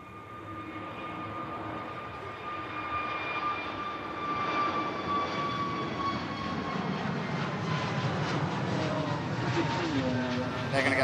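An airliner on approach at Manchester Airport, a steadily building engine roar with a whining tone, heard from a distance with people talking underneath.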